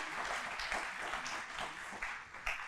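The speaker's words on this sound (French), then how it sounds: "et vous pouvez applaudir." Audience applause at a panel talk, a steady wash of many hands clapping at moderate distance with a few sharper claps standing out, continuing without voices.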